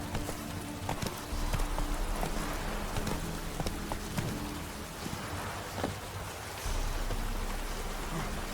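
A horse's hooves clip-clop steadily at a gallop in The Witcher 3, a rhythmic patter over a constant background of rain-like ambience, with no speech.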